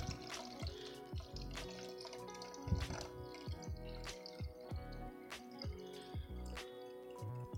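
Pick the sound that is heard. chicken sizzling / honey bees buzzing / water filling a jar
water filling a jar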